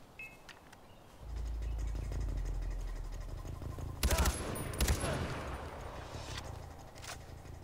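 In the video game Far Cry 4, a gun fires in loud, close bursts of rapid shots over a low engine-like hum, with two sharp clusters of gunfire and lighter pops around them.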